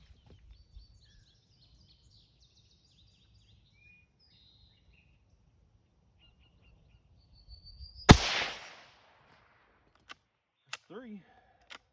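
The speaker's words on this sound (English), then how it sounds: "I'll be able to get 5 shots out of it" Single sharp crack of a Bear Creek Arsenal 17 HMR rifle shot outdoors, loud and brief with a short fading tail, amid near silence with faint birdsong and a few small clicks afterward.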